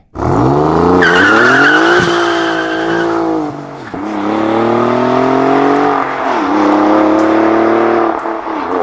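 An Alfa Romeo Quadrifoglio sports car engine revs hard and loud, rising and falling through several gear changes with a snarling, throaty tone and sharp pops between shifts.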